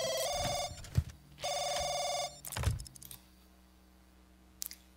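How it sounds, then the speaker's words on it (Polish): A mobile phone rings in The Sims 2 life-simulation game, two bursts of a bright electronic trill separated by a gap, followed by clicks and a soft thud, with a low hum and no speech. "teraz mi ktoś dzwoni, dajcie spokój."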